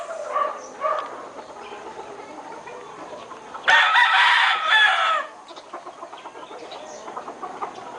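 Hens cluck nearby while a rooster crows loudly for a second or two in the middle, with more soft clucking around it.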